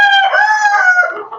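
A rooster kept in a cage crows once, loud and close, with a long harmonic cock-a-doodle-doo that rises and then trails off, heard alone with no talk.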